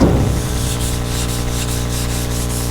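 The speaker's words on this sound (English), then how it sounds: "And then I'm going to get on to wet sanding." Steady abrasive rubbing of wet sanding on a Dart car body, a continuous close, even scrub with a faint periodic stroke rhythm and no talking.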